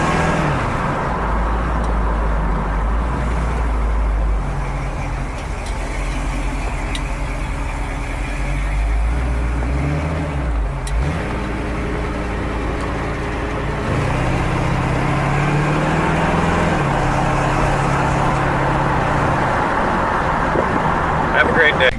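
A 1932 Ford Roadster Hi Boy steel hot rod driving around the block, its engine rumbling low and steady nearby, rising and falling as it shifts and accelerates, with no talk over it.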